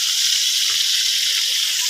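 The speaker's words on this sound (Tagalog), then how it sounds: "Prito ko ngayon" Buraw fish frying in a pan of oil gives a steady, close sizzling hiss that stays even throughout the short stretch, with no talk.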